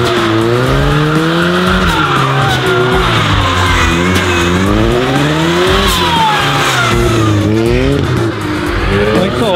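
A supercharged Mercedes with traction control switched off skids hard. Loud, continuous tire squeal rises and falls with a revving engine whose pitch sweeps up and down, close up and uninterrupted.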